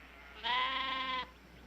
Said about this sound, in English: They are not stock. They're sheep.